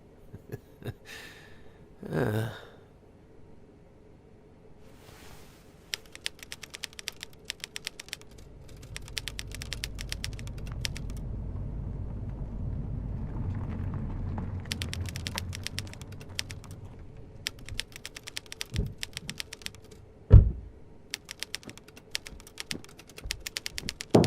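Typewriter keys clattering in fast clustered bursts with pauses between them, alternating with quieter stretches and a low rumbling wash in the middle, plus a sharp carriage-like clack near the end.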